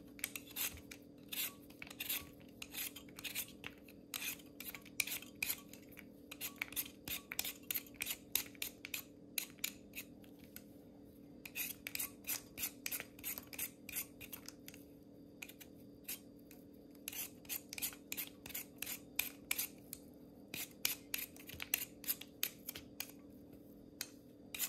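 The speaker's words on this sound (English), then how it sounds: "Now I'm gonna peel my 4 potatoes." Four potatoes are peeled by hand for a vegan zuppa toscana, a quiet run of short rasping scrapes that come in quick, rhythmic bursts with brief pauses between them.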